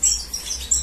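Tiny red siskin chicks, Venezuelan cardinalito, give thin high chirps in a cage, a few brief bursts at the start and end with softer cheeping between, close and fairly faint.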